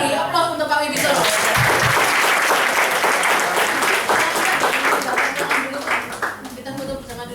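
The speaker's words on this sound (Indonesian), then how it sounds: "sekali lagi beri aplaus untuk Pak Wibi Solo" An indoor audience at a Prudential event applauds speaker Pak Wibi Solo, a dense, loud burst of clapping that swells quickly and carries on for several seconds before thinning out, with a voice heard over it at the start.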